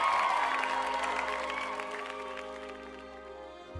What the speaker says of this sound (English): Oh, it's another cheer.